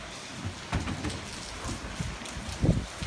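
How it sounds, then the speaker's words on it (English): Rain falls on a wet day as a steady patter with scattered heavier drops and splashes, a couple of louder thumps near the end, and no talking. "What a rainy day."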